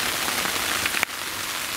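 Rain falls steadily outside a backcountry camp during an Idaho elk hunt, a constant close hiss of drops with one brief tap near the end and no talking.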